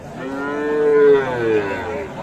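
A large Sahiwal Sindhi breed cow moos at a cattle market, giving one long, loud, close call that rises and falls over faint market noise in the background.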